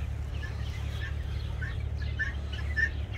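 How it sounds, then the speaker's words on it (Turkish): Chickens clucking on a farm, scattered short calls and chirpy clucks from a few birds over a low steady background hum, fairly quiet and mid-distance. "Ve tavuklar geliyor."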